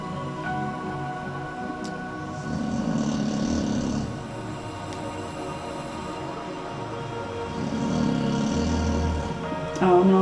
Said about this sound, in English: oh no, baby, you can't be snoring like that.